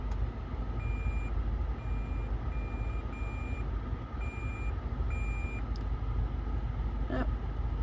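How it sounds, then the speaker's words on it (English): Lexus IS F 2008 Park Assist parking sensor sounding a steady series of short, evenly spaced beeps, about one every half second, over a constant low cabin rumble. "Here we have more like stuff like our Lexus Park Assist."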